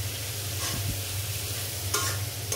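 Fried food stirred in a pan, a continuous low sizzle with a few scraping spoon strokes against the metal, close and without speech.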